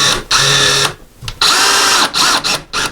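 A powered screwdriver driving a screw into a wall to mount a coat hook, several short whirring bursts of motor noise separated by brief pauses, close and fairly loud.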